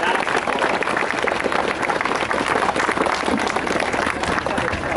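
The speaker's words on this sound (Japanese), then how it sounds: "改めてこのアンソニー・ジャコッコ選手に大きな大きな拍手をいただきたいと思います" An audience claps steadily at the award ceremony of a Tour of Japan cycling race stage in Mino, a dense continuous applause that holds at an even level throughout.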